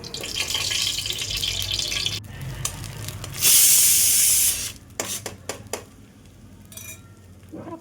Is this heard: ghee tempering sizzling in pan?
yes